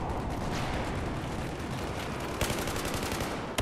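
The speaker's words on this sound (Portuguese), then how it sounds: "Vocês viram que eu atirei" Rapid automatic gunfire from SMG-type weapons in the Battlefield 4 video game, a dense continuous rattle of shots with a sharper burst near the end, heard alone at moderate level.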